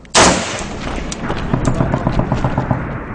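In Afghanistan, a sharp, loud burst of gunfire opens an artillery barrage, followed by a rapid, dense string of shots and booms rattling on without pause.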